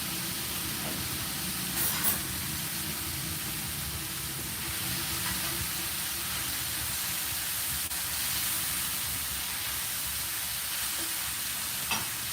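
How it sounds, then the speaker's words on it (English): Greens frying in a hot pan while making sweet and sour pork, a steady broadband sizzle with soft crackling pops running continuously at moderate level, no voices. "put our greens in there while it's still popping"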